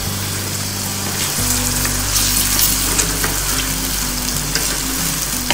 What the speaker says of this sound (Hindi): फ्लेम हमने दरमियाना किया हुआ है, क्योंकि गोश्त को भूनना है।